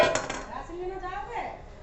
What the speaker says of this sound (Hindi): तो यहाँ पर आप देख सकते हो मैं बर्तन धोने लगी हूँ।